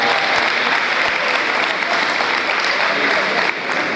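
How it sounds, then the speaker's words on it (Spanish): A crowd at a handball event applauds the girls' team, dense, loud clapping that runs unbroken from start to finish. "Un aplauso entonces también para las chicas"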